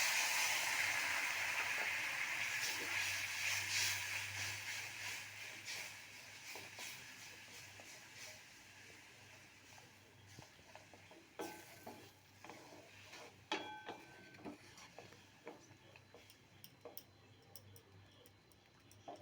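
Dissolved Amul milk goes into fried masala for a Mysore-style gobi manchurian, setting off a loud hiss of sizzling that gradually fades. A spoon then scrapes and clinks against the pan in scattered, irregular ticks.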